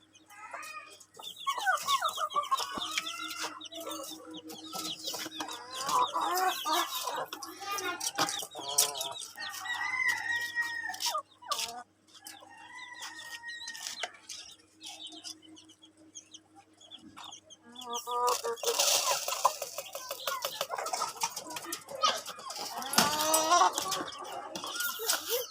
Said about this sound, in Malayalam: ഇത് ഷോർട്ട് നോസിൻ്റെ 6 മാസമായ കുട്ടിയാണ്.